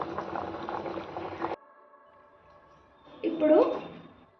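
Basmati rice boils in water with bay leaves and a cinnamon stick, bubbling close by, then a near-silent pause before a short burst of boiling returns.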